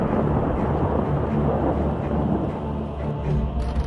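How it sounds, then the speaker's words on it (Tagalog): Thunder from lightning over the erupting Fuego Volcano in Guatemala rumbles as a dense, continuous low roar, loud and sustained with no voices. "kakaibang kidlat ang nasaksihan habang nangangalit ang Fuego Volcano"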